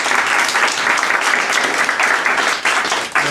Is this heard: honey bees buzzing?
no